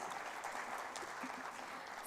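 Conference audience at a national chartered accountants' gathering applauding to welcome a speaker, an even patter of clapping held steady throughout, fairly quiet and diffuse.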